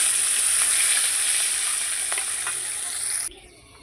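Fish pieces sizzle loudly in hot oil in a pan as part of a fish curry with potatoes and pointed gourd, a steady bright frying hiss that continues for over three seconds before abruptly cutting out.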